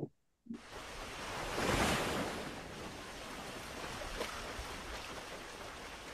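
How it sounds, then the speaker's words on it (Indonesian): Ocean waves surge in a continuous broad rush that swells loudly near the start and then settles into a steady roar, with some wind noise on the microphone. "Suara ombak."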